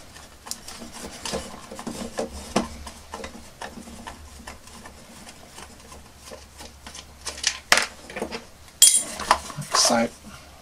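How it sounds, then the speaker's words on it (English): Screws are unscrewed from the back of a battered vintage 12-inch Boba Fett figure and dropped into a pot. Scattered small clicks and scrapes come first, then a few sharper metallic clinks near the end, close and fairly quiet. "we're just going to unscrew the screws on the back of this poor old battered one"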